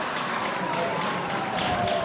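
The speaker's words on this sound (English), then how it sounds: "Big crowd in the background enjoying it today." Steady broad crowd noise with scattered applause from spectators at a Pembroke versus Westminster Australian rules football match, continuous and moderately loud throughout.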